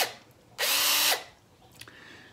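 A capstan winch on a worktable sawmill automation rig spins up fast, one loud high-pitched whirring burst lasting about half a second, followed by faint mechanical clicks.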